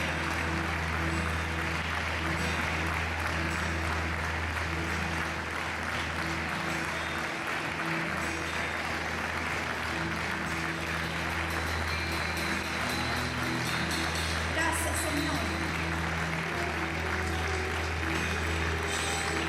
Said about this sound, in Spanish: Recibe, Padre, en esta tarde nuestros aplausos. Aplauso de gratitud